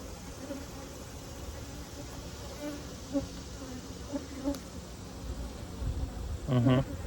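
Honey bees hum in an open hive during an inspection, a low, continuous drone with a few brief buzzing bursts passing close, and a louder one near the end.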